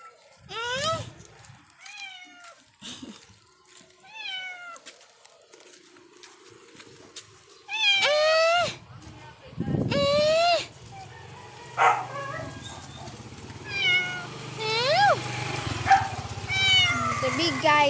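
Several cats meow repeatedly in a caged setting, including a pregnant female, with clear close calls spread throughout and a person talking between the meows.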